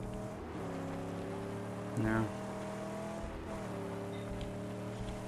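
A car engine droning steadily in the post-apocalyptic driving game Mad Max, a continuous low motor hum with a brief louder rev midway, while someone says a short word over it.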